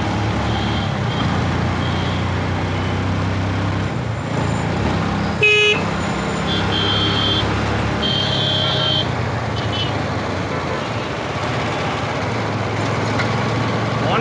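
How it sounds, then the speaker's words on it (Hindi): A vehicle horn honks from behind amid steady traffic and engine noise on a city road in Gandhinagar, Gujarat, heard from a moving motorcycle; the short toot stands out over the continuous road rumble. "हॉर्न बजा रहा है पीछे से।"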